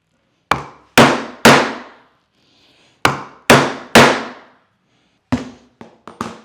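A hammer strikes a metal punch through a leather back cinch with sharp, loud, ringing blows in uneven clusters of three, then a faster run of lighter taps, each decaying quickly in a quiet room.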